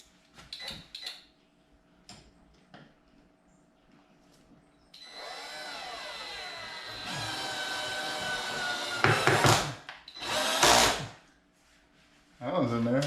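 Power drill driving screws into an old wooden door in a 100-year-old house, a sustained whirring run that rises in pitch, followed by short loud bursts, with quieter clatter and handling noises around it.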